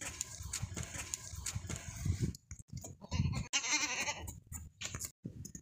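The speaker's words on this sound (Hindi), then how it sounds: "मोटा ताज़ा बकरा है," Goats bleat at a livestock market, several repeated, nasal bleats close to the microphone amid shuffling and other farm-animal noise.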